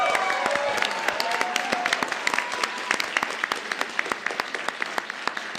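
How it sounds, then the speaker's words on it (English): An audience at a national high school economics competition claps, with an early voice and a few cheers, then the applause thins into sparse, distinct individual claps toward the end. "It says applause."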